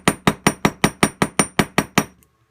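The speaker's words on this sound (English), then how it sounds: "Now the other thing we can do with this is take our hammer. We can actually, I'm gonna hammer this a little flat" A hammer strikes wire to flatten it for a handmade toggle clasp, ten sharp, evenly spaced metallic blows in quick succession, close and loud, then stopping.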